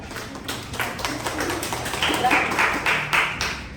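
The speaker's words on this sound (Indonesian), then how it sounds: "Aplaus untuk kelompok 3" A classroom of students applauds a presenting group with scattered, uneven clapping close by, growing denser toward the middle, while voices murmur underneath.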